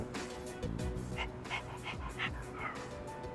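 A dog in the video game Persona 3 Reload lets out a series of short yips and whimpering barks over a low ambient game background.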